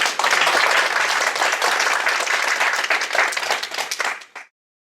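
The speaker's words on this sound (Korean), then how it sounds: "다시 한번 박수 부탁드립니다" Steady applause from an audience, many hands clapping densely for about four seconds before stopping abruptly.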